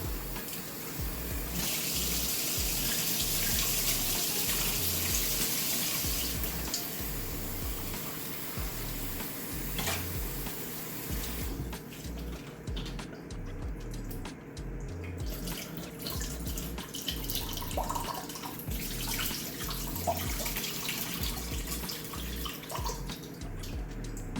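Tap water runs steadily into a sink while pecans are washed for a pecan pie filling, with a continuous close rush that shifts in tone as the stream is disturbed, heard alone.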